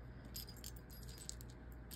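A small bunch of keys jangles and rattles as it is handled, bright metallic clinks coming in short clustered bursts, close and fairly quiet over a soft low background, with no talking.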